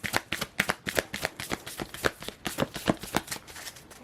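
Tarot cards shuffled by hand in a quick, steady riffle of crisp papery slaps, close and clear with no talking over them.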